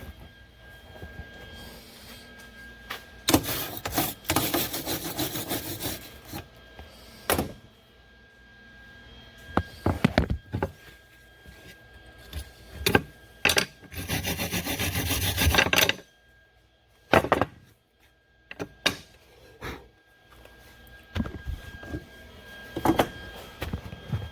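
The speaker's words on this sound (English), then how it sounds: "I think I still might have the welder too hot for this right here" Bursts of crackling and hissing from a Lincoln Magnum 100SG welder running a little too hot, several separate runs of a few seconds each broken by quiet gaps, loud and close with no talking.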